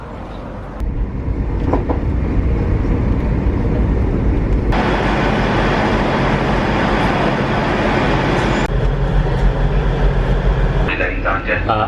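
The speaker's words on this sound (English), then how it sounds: "I'm on the train, can't be bothered to sit down, it's too busy." Rumble and rattle of a busy passenger train bound for London Paddington, loud and steady throughout with rhythmic clickety-clack, under a crowd of voices chatting in the carriage.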